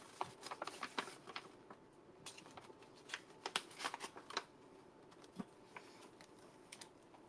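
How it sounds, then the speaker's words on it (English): A craft knife cuts through paper in a crafting session, giving quiet, irregular scratchy slicing and tapping sounds up close. "So I'm just getting my craft knife out and just cutting."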